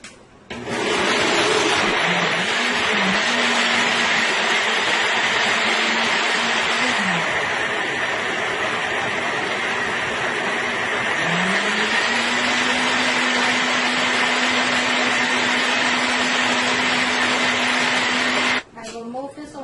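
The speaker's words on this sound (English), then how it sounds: "Now I will go ahead and start blending this." A blender motor blending coconut and water runs steadily at high speed for most of the clip, pausing briefly midway before starting again, loud and close.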